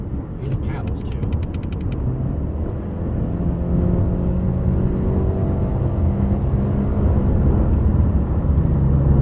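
A 2020 Subaru Crosstrek 2.0i Premium's engine pulls and rises steadily as it speeds up, using paddle shifters, a continuous droning hum heard from inside with a few clicks early on.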